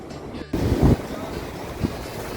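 Sea waves at high tide on a Ratnagiri beach rush and break in a broad, continuous wash, with strong wind buffeting the microphone and one louder surge near the start.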